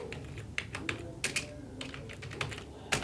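Rapid clicking of a computer keyboard, irregular bursts of keystrokes with a few sharper taps, close and fairly quiet, while searching Fiverr for a squeeze page; no talking.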